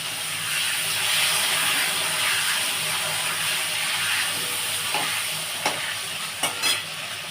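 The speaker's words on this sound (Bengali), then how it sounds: "আলুগুলো একটু ভাজা হোক বন্ধুরা" Potatoes cut into chunks frying in a pan, a steady broad sizzle and hiss with a few brief stirring scrapes near the end, close and without speech.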